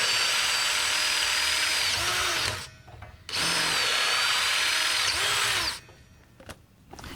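Power drill boring out a fish plate bolt hole in a steel rail on a small railway. Two sustained, loud bursts of whining drilling are heard up close, separated by a short pause and ending with brief quieter gaps.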